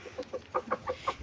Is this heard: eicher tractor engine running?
no